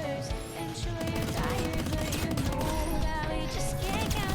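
Rapid SMG fire in the video game Squirrel with a Gun, dense bursts that run almost without a break under game sounds and music.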